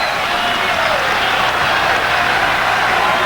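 A basketball arena crowd in a 1982 Bucks versus 76ers playoff game roars and applauds continuously, a loud, dense wash of cheering, with commentary voices mixed underneath.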